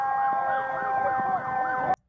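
A fire truck's wailing siren sweeps up and down repeatedly, loud and close, at a Baltimore County house fire, then cuts off abruptly at the end.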